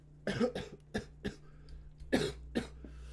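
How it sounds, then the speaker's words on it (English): Several short coughs in two clusters, fairly close and moderately loud, with a faint steady hum underneath. "Still coughing, man. Still recovering."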